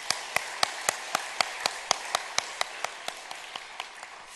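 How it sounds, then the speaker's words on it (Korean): Church congregation clapping together in a steady, even rhythm during a Sunday service, about seventeen crisp unison claps at a moderate tempo, with no talking over them. "박수 한번 다시 한번 올려드립니다."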